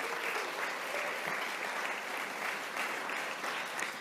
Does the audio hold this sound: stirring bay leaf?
no